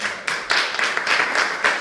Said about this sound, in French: Donc je vous demande pour la première d'applaudir Madame Nathalie